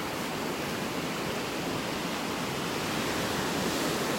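Ocean waves break on a beach in North Naples, Florida, as a continuous broad wash of surf, loud and steady throughout with no voices.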